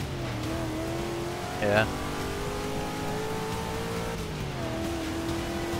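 Race car engine from the Forza 6 video game driving through rain at Le Mans, a steady droning hum with a brief revving swell partway through, running continuously under a person's talking.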